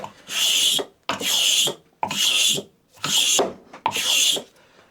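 A cabinet scraper scraping a piece of Tasmanian oak in five long, even rasping strokes, each about a second, bright and close with short pauses between.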